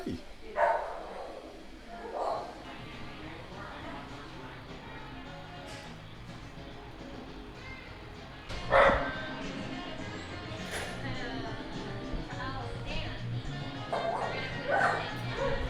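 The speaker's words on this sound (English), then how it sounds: "before I was rudely interrupted by the puppies" Puppies bark and yip in a few scattered bursts at moderate distance, with a person talking intermittently over them indoors.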